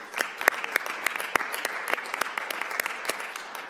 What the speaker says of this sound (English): I would invite everyone to join me in a round of applause for the 2019 City Manager of the Year, Mr. Sean McGlynn.